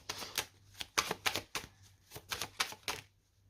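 Tarot cards being laid and handled on a table during a reading: a quick series of soft, close slaps and clicks in irregular bursts, with no talk over them.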